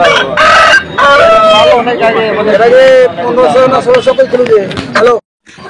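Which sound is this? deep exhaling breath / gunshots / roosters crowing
roosters crowing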